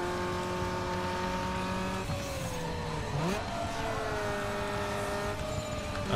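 Car engine racing in Need for Speed Underground 2, a steady close engine drone with a pitch sweep midway and brief tire squeal, no talk.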